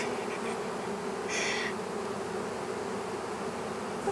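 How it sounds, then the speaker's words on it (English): Honey bees swarm in July, giving off a continuous close buzzing hum with a brief sharper whine from a bee passing near, steady and without voices. "All these little bees."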